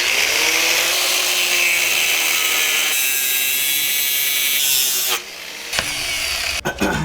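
A power tool grinds through a metal reinforcement bar with a loud, steady high-pitched whine for about five seconds, then cuts off, followed by a few clicks and knocks.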